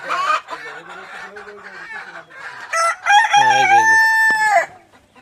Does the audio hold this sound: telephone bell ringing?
no